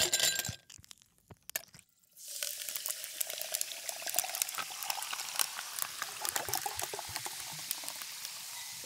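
A drink fizzing after direct carbonation, beginning with a few glassy clinks and a brief hiss, then a dense, steady crackle of popping bubbles heard close up with no talk.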